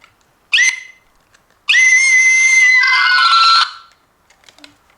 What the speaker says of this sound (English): when he's feeling stressed he can press that button and feel like he's screaming